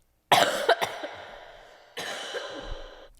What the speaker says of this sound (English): Okay, cough break.